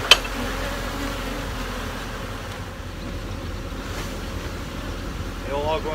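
Honeybees shaken out in front of a catch hive give a steady, diffuse buzzing drone that holds for several seconds after a brief thump at the start.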